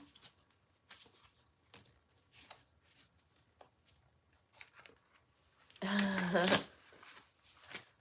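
An Earth and Bones Tarot deck is handled with soft intermittent card flicks under quiet talk, followed by one loud riffle shuffle lasting under a second, then more soft handling.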